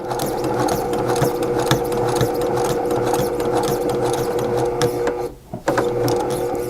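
A sewing machine stitches a small patchwork tote bag made of five-inch squares, its rapid mechanical whirring steady and close, with one brief pause near the end before the stitching resumes.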